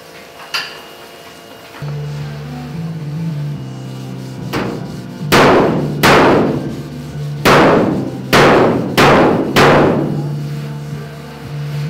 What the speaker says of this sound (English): there's a lot of hammers and a lot of grinders.